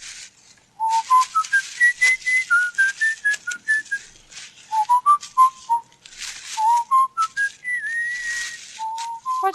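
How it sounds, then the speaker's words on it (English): A man whistles a tune in a 1940s radio drama, a clear melodic line of rising and falling phrases in short bursts, close and alone with no talk. "What's that you're whistling?"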